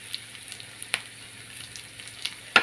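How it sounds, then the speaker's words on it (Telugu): Sliced onions, green chilies, turmeric and ginger garlic paste fry in a pan, giving a faint steady sizzle broken by a few soft stirring clicks and one louder scrape near the end, with no speech. "ఇవి కూడా పచ్చివాసన పోయేంత వేసేసి"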